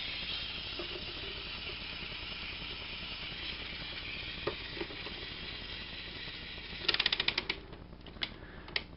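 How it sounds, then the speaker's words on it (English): The spinning shield rotor of a DX Kaizoku Gattai Gōjūjin toy runs with a faint mechanical whir, then gives a few isolated clicks and a quick rattling burst of ratchet-like clicking near the end. "If you hear that clicking sound, that's not the sound of it breaking"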